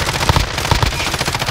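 Rapid gunfire in the video game Warzone, with a cluster of sharp bursts near the start and another around the middle over a dense, noisy game mix, loud and close.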